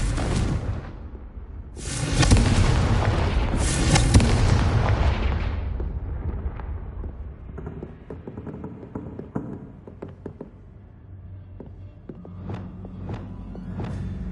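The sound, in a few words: Confringo blasting curse explosion in the Hogwarts Legacy video game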